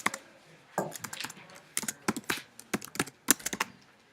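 Bursts of computer keyboard typing, fairly close and crisp, in irregular clusters of keystrokes with short pauses between, no talking.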